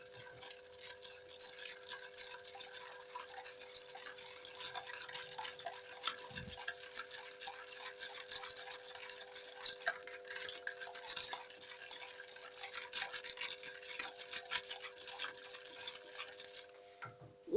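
Soft, steady scratchy rustling with light rapid tapping as cocoa powder is shaken through a fine mesh sieve, faint and close with no voices.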